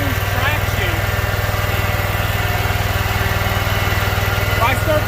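A lawn mower engine runs steadily on a hill at close range, with a constant pulsing drone and no pauses.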